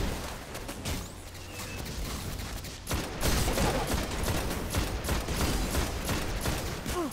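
Vision of Confluence scout rifle fired in Destiny, a loud, dense barrage of rapid gunshots amid chaotic battle noise that grows heavier after a short lull.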